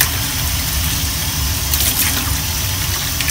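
Tap water runs steadily into a sink while rinsing off detergent after a vinegar rust-removal treatment, a continuous broadband rush that stays close and even throughout with no talk.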